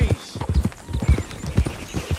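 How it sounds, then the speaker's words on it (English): Hooves of a Tennessee Walker horse in the video game Red Dead Redemption 2 clip-clop in a steady walking rhythm, a dozen or so dull thuds at moderate volume. "the Tennessee Walker heard Arthur and will follow"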